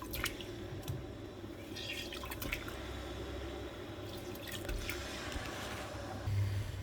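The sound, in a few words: juice dripping from halved lemons and oranges squeezed into pot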